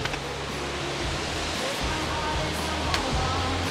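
Roaring rush of the Ouzoud waterfall and river in a humid gorge of Morocco's Atlas mountains, a steady dense wash of falling water heard close and loud throughout, with no break.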